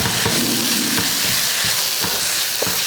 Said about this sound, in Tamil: மசாலா லைட்டாக எண்ணெயில் கலந்து விட்டதுக்கப்புறமா நம்ம அரைச்ச சோயாவை இதில் சேர்த்துக்கலாம். சேர்த்துட்டு கலந்துடலாம்.